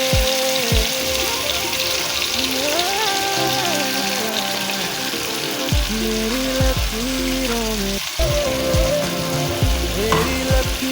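Chicken cooked with a cashew, mint and curd puree sizzles steadily in a pan while being stirred, with scraping strokes and a melodic music bed running underneath throughout.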